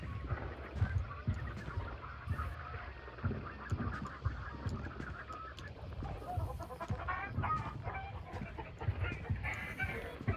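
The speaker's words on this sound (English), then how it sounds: "Chicken, stop making noise. You're making me nervous." Chickens cluck and squawk in the video game Hunt: Showdown, scattered agitated calls over a busy, low game ambience with rustling and thuds, heard at moderate distance.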